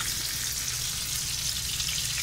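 Food sizzles steadily in a hot pan during home cooking, a continuous bright crackle that keeps the same level from start to finish, with no talking.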